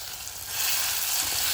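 Fish curry masala sautéing in a pan, a loud close sizzle that swells sharply after a moment and then holds steady, with no talking.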